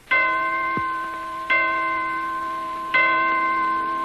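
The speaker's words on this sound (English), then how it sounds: "As the clocks in Detroit chime 4" Clock bells in Detroit chiming four o'clock, three clear resonant strikes spaced about a second and a half apart, each ringing out and slowly decaying, with no talking over them.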